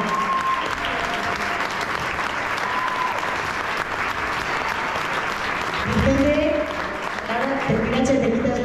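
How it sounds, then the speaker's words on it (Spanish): Audience applause at a village festival queen crowning in Chillarón, Spain, a steady dense clapping that swells louder near the end, with voices and cheers rising over it. "un fuerte aplauso para Zaira Torralba"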